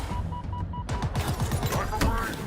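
Rapid gunfire in the video game Halo Infinite, bursts of repeated shots with a dense rattling rhythm mixed with game sound effects and a short electronic tone, under a voice speaking.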